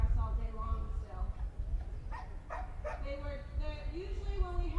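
Herding dogs working a flock of duck hens barking and yipping at mid distance, a few short bursts over steady outdoor background noise, with some whining, yelping calls.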